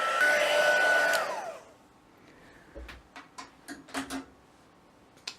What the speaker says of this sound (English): I'm just going to get my embossing gun.